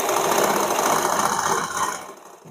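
A sewing machine running steadily as it stitches a blouse, a close, fast mechanical whirring hum that slows briefly near the end, with no talking.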